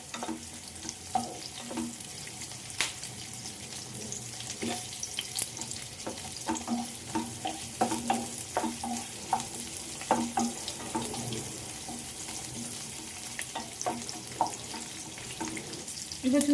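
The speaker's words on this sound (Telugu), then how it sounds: "ఎర్రగడ్డలు కొంచెం లైట్గా కలర్ చేంజ్ అయ్యేంత వరకు వేయించుకున్నాం." Onions frying with bay leaf, cinnamon, cardamom and cloves for a paneer curry: a steady close sizzle with frequent sharp spatula scrapes and clinks against the pan throughout, no voices.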